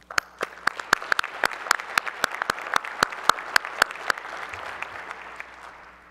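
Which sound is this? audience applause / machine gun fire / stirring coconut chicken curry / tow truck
audience applause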